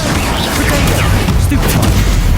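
An Incendio fire spell cast in the video game Hogwarts Legacy erupts as a loud, booming burst of fiery noise, filling the moment with a dense, steady roar amid ongoing combat.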